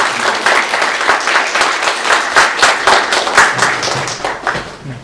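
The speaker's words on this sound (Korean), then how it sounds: "다시 한번 박수 드립니다." A church congregation applauds at a Sunday service after an infant baptism, a dense, steady clapping from many hands filling the room with no one speaking.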